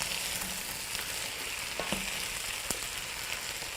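Chopped zucchini stir frying in a pot for soup, giving a steady, close crackling sizzle with a few faint scrapes and taps over nearly four seconds.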